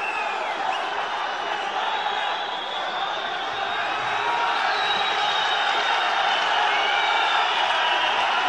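A crowd at an ACB 61 MMA bout cheers and roars in a dense, continuous wall of noise late in a round, with a commentator talking over it.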